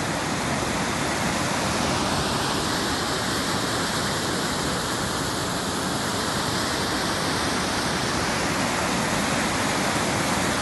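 Floodwater from a breached stretch of the Diversivo river embankment near Finale pours into farmland, producing a loud, steady, unbroken roar of rushing water that runs throughout with no talk.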